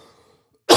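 A single sharp cough bursts in after a near-silent pause, loud and close.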